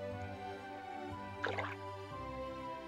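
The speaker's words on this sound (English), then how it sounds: "we're going to fill this hole with some water" Game water filling a freshly dug hole in OpenRCT2: a brief burst of bubbly, dripping liquid sound about halfway through, set against steady game background music.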